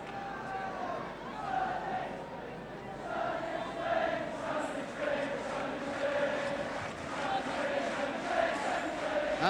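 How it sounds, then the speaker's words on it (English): A Welsh football crowd at the Vetch chanting during Wales v Iceland, a massed roar of voices swelling in a repeated chant, distant and reverberant, under steady commentary. "the Welsh crowd can start to chant sunny Spain, sunny Spain"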